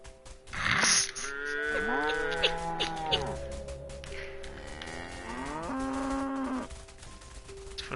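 Cows in the video game Everything moo repeatedly, several long, loud, drawn-out calls overlapping close by across the whole stretch, with no talking.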